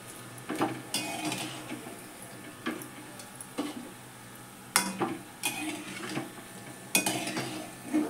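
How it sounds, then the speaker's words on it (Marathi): Onion bhaji sizzle quietly in hot oil while a utensil scrapes and clinks against the pan in intermittent bursts, the frying hiss faint underneath. "अशी मस्त तळून घ्यायची ही भाजी"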